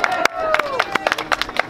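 Scattered, uneven handclaps from a small beach audience at a street performance, a few sharp claps spread across a couple of seconds over light background chatter and a thin whistling tone.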